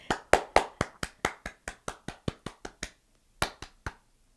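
A single person's crisp hand claps, close and loud, a quick run of about fifteen evenly spaced claps that speed up slightly, then a short pause and three more.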